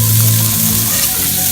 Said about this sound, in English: So now our shallots and our garlic are nicely caramelized.